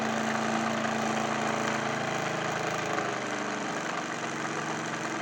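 A BLHF-RM synchronous electric motor spinning a large propeller makes a steady mechanical drone with a whirring buzz, running continuously, loud and close, its pitch dipping slightly toward the end.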